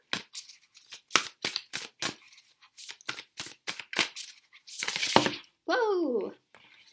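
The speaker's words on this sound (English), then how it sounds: "Okay, so now I'm going to shuffle for an oracle card message." Oracle cards being shuffled by hand, a rapid series of crisp riffling snaps close up, followed by a longer shuffle burst, with a short voice at the end.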